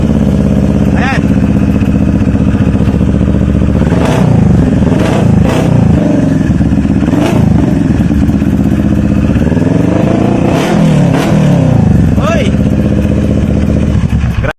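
A CFMoto NK400 motorcycle fitted with an Akrapovic Hexa-type muffler and no silencer, revving loudly up close in repeated throttle blips over a steady deep idle, with a voice speaking over parts of it.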